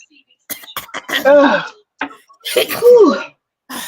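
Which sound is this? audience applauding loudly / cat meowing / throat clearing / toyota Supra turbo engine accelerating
throat clearing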